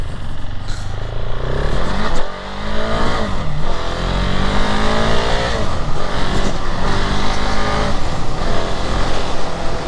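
A 2021 KTM 690 Enduro R single-cylinder motorcycle is ridden hard, with loud, close engine revs rising and falling through repeated gear changes and a buzzy, vibrating exhaust note.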